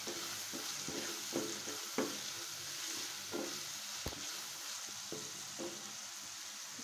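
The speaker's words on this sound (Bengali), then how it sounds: "যতক্ষণ না মাংসটা ভাজা ভাজা হয়ে আসছে, ততক্ষণ আমি এটাকে সুন্দর করে ভেজে ভাজতে থাকবো" Chicken pieces and potatoes fry in a pan with a soft, continuous sizzle, broken by several scraping stirs spaced a second or so apart.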